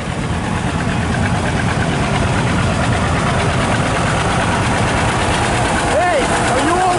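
An old tractor engine idles at a New Year's parade, a steady low rumble that runs loud and continuous throughout, with a brief vehicle horn-like tone near the end.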